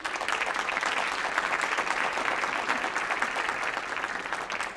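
A crowd at a board of education meeting claps for a cheerleading award, a steady, even wash of applause that holds at one level from start to finish.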